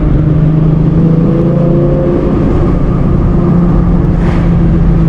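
A manual car's engine holds at higher revs while cornering, a loud, constant droning hum with steady harmonic tones and no talking over it.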